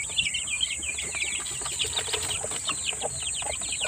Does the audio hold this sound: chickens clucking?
yes